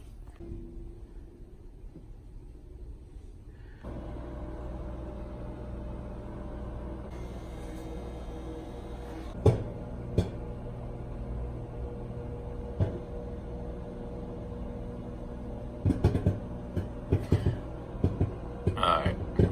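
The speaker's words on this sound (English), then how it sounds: "put this in the microwave for a few minutes" A microwave oven running with a collapsible popcorn popper inside, a steady low hum starting after a few seconds, with scattered sharp pops that grow more frequent toward the end.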